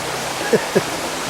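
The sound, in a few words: river flowing through woodland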